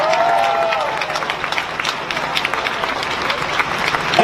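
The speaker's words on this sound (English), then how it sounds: "You can clap to that." A crowd at an outdoor justice rally claps, scattered, moderately loud hand claps that rise and fall under murmuring voices, with a voice heard briefly at the start.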